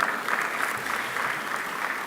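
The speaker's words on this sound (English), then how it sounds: "Please, another round of applause for him." A crowd at a conference roadshow applauds steadily, with dense clapping that keeps an even level throughout.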